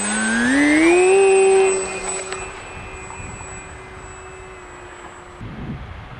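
A radio-controlled model airplane flying, a high whining motor note that rises in pitch, holds steady, then fades as the plane moves farther off.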